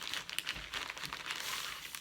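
A small plastic pouch holding a tapestry crinkles and rustles steadily as it is opened, close and soft, with no speech.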